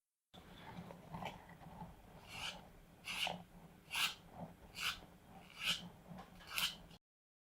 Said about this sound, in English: So keep sanding until you get a nice smooth edge.